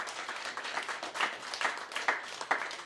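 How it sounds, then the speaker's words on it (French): A small audience at a café-style public discussion in Roubaix gives a warm round of applause, with uneven, moderately loud clapping that pulses through the whole stretch. "je pense qu'on peut l'applaudir bien fort pour ce beau témoignage"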